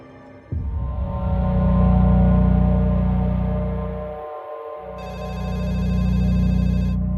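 A telephone rings steadily and loud throughout, a sustained electronic ringing tone with a brief gap partway through, with no voices.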